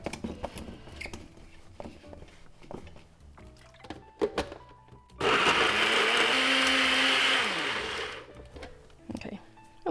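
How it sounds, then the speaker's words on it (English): A blender whirs loudly through tamarind paste for about three seconds in the middle, a steady roar that winds down, with kitchen clatter and brief talk before and after. "So we're just gonna blend that up first while our stuff is cooking."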